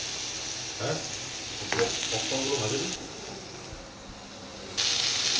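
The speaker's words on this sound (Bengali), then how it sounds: "পটলগুলো হালকা করে ভেজে নেব।" Pointed gourd pieces fry in oil with a soft, continuous sizzle, joined by a few light stirring clatters from the pan, fairly quiet and close.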